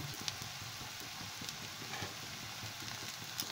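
Onion, ginger and garlic fry in a pan, giving a quiet, continuous sizzle with a few soft ticks and stirring clicks, and no talking.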